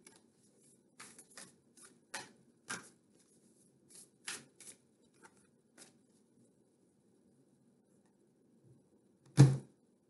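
Tarot cards shuffled by hand, a series of quiet, brief flicks and riffles in irregular bursts, ending in a louder slap of cards, close and without talk.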